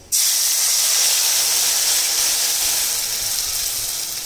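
Loud, sudden hiss as black mustard paste with green chili, salt and turmeric hits hot oil, a bright sustained sizzle that bursts in at once and slowly eases over several seconds, with no voices.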